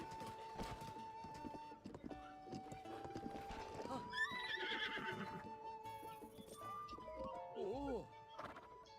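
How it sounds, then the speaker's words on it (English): A horse in Zelda: Tears of the Kingdom whinnies loudly while its hooves clop in a steady rhythm, layered over game music and effects, with a person talking throughout. "why do I have to re-register this fucking horse?"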